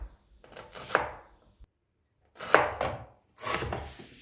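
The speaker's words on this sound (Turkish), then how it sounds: "Onun için orta boy bir tane mor soğandan ince ince doğruyorum" A knife chops a medium red onion finely on a board in three short bursts of rapid tapping, separated by pauses of near silence.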